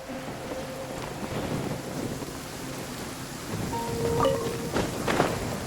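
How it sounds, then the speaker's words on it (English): Heavy rain with rolling thunder in the video game Genshin Impact, a steady hiss of downpour with low rumbles swelling toward the end and a couple of faint tonal chimes, no talking. "This heavy rain must be quite an inconvenience for you."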